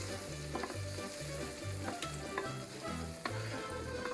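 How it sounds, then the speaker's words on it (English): A pot of potaje being stirred over heat, with a steady sizzle and a rhythmic scraping pulse repeating about every half second, close and alone with no voices. "you will stir the potaje so it'll add flavor"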